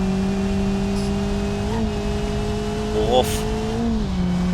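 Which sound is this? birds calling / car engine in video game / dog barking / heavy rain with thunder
car engine in video game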